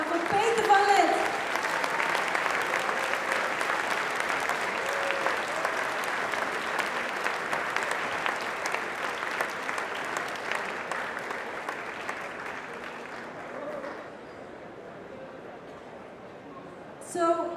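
Audience at the RoboCup 2024 opening applauding an honoree, a long, steady spread of clapping with some voices underneath, thinning and quieting toward the end.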